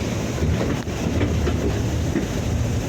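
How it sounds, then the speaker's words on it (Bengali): A small eco park toy train rumbles past nearby, a steady low rolling roar with wind buffeting the microphone, no voices. "এই যে আবার ট্রেনটা এদিক দিয়ে ঘুরে চলে যাচ্ছে"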